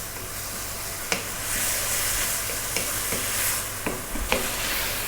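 Tomatoes frying in a pan for vegetable rice, a steady close sizzle and hiss broken by occasional scrapes and taps of stirring, with no talking.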